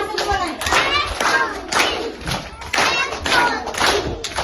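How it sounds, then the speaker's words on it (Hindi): An audience at a local ceremony claps in welcome for a newly elected official, producing fairly close, rhythmic rounds of applause with steady beats that run throughout, with a few voices faintly underneath. "सब लोग स्वागत में ताली बजाओ"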